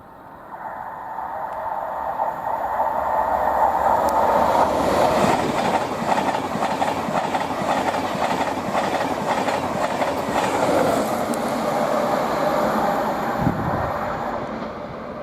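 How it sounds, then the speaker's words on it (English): An InterCity 225 set on the East Coast Main Line at Potters Bar, running from York to London King's Cross, swells into a loud close roar and clatter as it passes, then fades slightly with no talk. "I've got a 225 set heading from York to London King's Cross"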